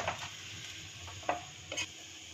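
Palm fritters (taler bora) fry in hot oil with a steady soft sizzle, punctuated by a few quick stirring scrapes close by.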